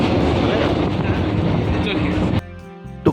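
A Vande Bharat Express sleeper train, Howrah to New Jalpaiguri, rumbles loudly into a station with a steady clattering roar that cuts off abruptly, leaving quieter platform sounds and a brief thump.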